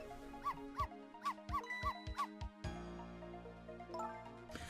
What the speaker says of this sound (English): Missile, if you bark like that, you'll make the lady next door start howling.